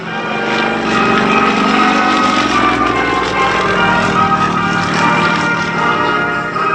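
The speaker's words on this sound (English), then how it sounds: "It was engineered specifically for that big Russian radial engine, all 360 horsepower of it" A Pitts Model 12 aerobatic biplane with a 360 hp Russian radial engine flies at an air show in Geneseo, a loud, steady, close propeller roar holding throughout with no voices.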